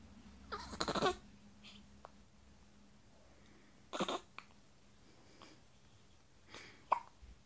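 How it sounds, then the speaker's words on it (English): A three-week-old baby hiccups several times, each a short sharp burst with quiet pauses between, close and fairly faint with no talking. "And you've got the hiccups, haven't you?"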